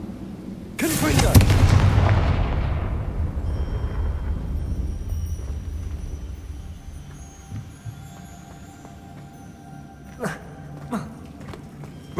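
A Confringo blast spell from Hogwarts Legacy: one loud, sudden explosive boom that rolls off into a long fading rumble, followed by faint clicks and brief small impacts, with a voice calling out.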